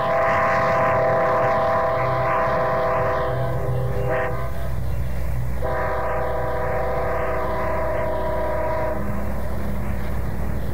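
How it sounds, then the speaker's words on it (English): A Great Northern steam locomotive, engine 510, blows its chime whistle in long sustained blasts with a short break, over a steady low rumble, coming out of a cut on a line to Seattle. "Now here's one of the Great Northern coming out of the Big Cut heading for Seattle on the International,"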